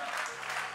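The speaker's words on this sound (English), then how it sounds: "Somebody better give Jesus a clap offering today." A church congregation claps together during a sermon, a short dense burst of applause filling the room.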